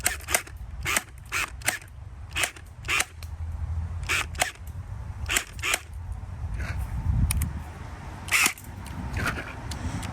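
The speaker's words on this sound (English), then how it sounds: "I guess I'm just gonna shoot off in the distance." A Surge gel blaster fired outdoors into the distance, a string of sharp, loud, clicky shots in irregular bursts, some close together and others spaced apart, over a low ambient rumble.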